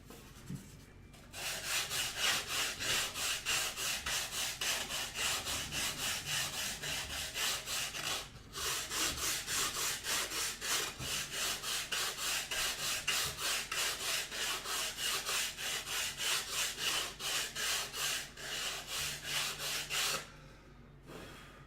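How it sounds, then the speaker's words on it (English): Wood being sanded by hand with a block, steady rapid back-and-forth scraping strokes, close up, with two short pauses. "We'll come back with our sanding block and finish it up."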